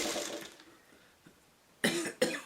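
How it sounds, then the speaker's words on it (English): A person with allergies coughs a few times, dry and close, with short quiet gaps between the bursts. "I have a dry cough from"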